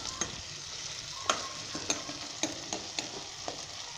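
Green chillies, ginger and onion fry in hot oil over high heat, a soft steady sizzle broken by regular scraping stirs of a spoon against the pan, close and without speech.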